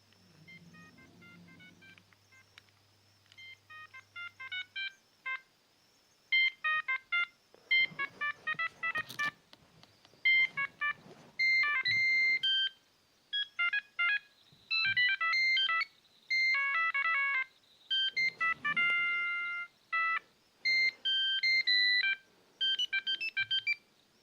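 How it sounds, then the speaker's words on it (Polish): Siemens CX70 mobile phone from 2004 plays its SMS alert tones one after another: short, bright electronic beeping melodies separated by brief pauses, loud and clear with no talking. "Tu mamy dźwięki SMS-owe."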